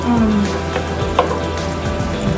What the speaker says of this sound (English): I'm gonna cook my onions first.